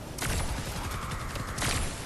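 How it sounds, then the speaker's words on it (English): Grave digger rifle firing in Fortnite Save the World PvE, two sharp loud bursts of shots about a second and a half apart, close and alone without talk. "Loving this grave digger rifle. Let's see if we can shoot him from here."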